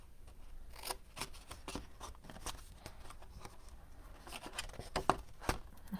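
Scissors snip through a card box while mitering its end, giving a string of crisp, close cuts in an uneven rhythm, some quick and light, a few sharper and louder.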